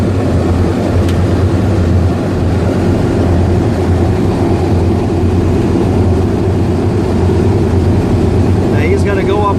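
A loud, steady engine drone fills the interior of a B-24 bomber in flight, a constant low propeller-aircraft rumble with no pauses throughout.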